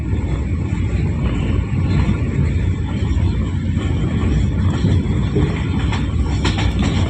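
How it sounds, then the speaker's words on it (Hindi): The Sir Syed Express passenger train rumbles steadily through Sarhad railway station at close range without stopping, a continuous loud roar of wheels and carriages with faint rhythmic clatter throughout. "सर सैयद एक्सप्रेस सरहद रेलवे स्टेशन को थ्रू पास कर रही है।"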